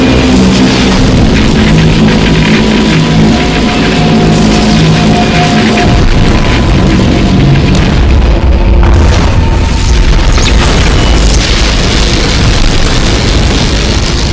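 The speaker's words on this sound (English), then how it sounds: "ASTRO Tiolet was stuck in this situation where he had to tank explosions from flying Tiolets" Explosions in a Skibidi Toilet animation as flying toilets blast at Astro Toilet: loud, dense booming and rumbling fills the whole stretch, with low sustained tones early on and no speech.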